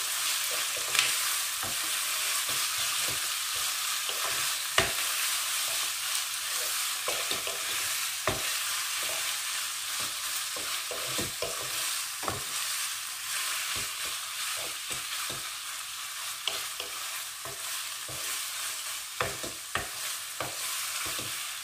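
Clams stir-fried with holy basil over medium heat in a wok, a steady close sizzle broken by frequent sharp scrapes and clacks of a spatula and shells, with no voices.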